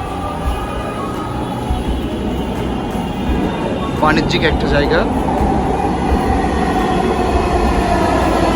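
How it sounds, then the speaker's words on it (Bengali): A Dhaka metro rail train pulls into a station as a continuous broad rumble with a brief rise midway, while people talk over it. "ইতিমধ্যে আরেকটি ট্রেন চলে আসছে"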